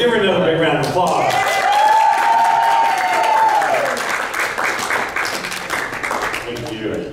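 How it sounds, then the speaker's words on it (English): Audience applause and clapping at a celebration-day gathering, a steady wash of hands filling the room continuously, with voices and speech mixed in over it. "You're giving them a big round of applause."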